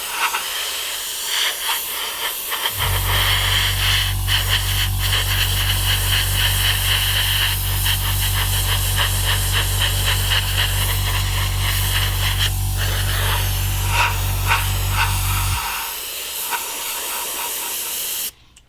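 An airbrush sprays paint across the spine of a 1/48 Revell Rafale M model kit, a loud steady hiss with a low compressor hum that starts a few seconds in, runs unbroken, then cuts off near the end.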